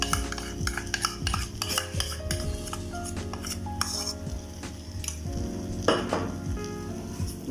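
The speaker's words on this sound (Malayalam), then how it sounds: "ഇനി നമുക്കിതിലേക്ക് നമ്മളുടെ കാഷ്യൂ നട്ടിൻ്റെ പ്യൂരി ഇട്ട് കൊടുക്കാം." Cashew nut puree is stirred into chicken masala frying in a pan: scraping and clinking utensil strokes over a steady sizzle, with music playing underneath and no talking.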